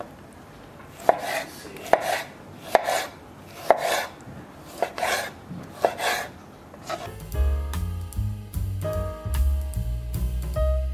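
A knife chops zucchini (calabacita) on a cutting board in about seven sharp, evenly spaced strikes, close and clear; the second half turns to denser, steady scraping and clattering with no talking.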